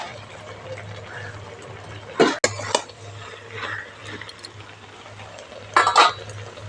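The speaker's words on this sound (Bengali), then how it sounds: "ঢাকাটা এবার খুলে নেব।" A metal lid clanks off a pot of spinach cooking on the stove, with sharp clinks of cookware and a soft simmering hiss in the background; two short bursts of clatter stand out near and fairly loud.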